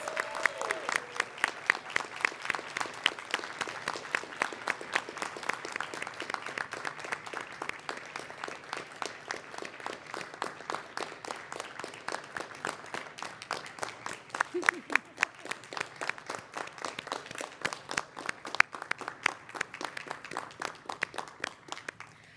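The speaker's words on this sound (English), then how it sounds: "Let's have a round of applause for our graduates." A graduation ceremony audience applauds the graduates with steady, dense clapping that runs evenly throughout, fairly near and sustained, with a brief voice early on.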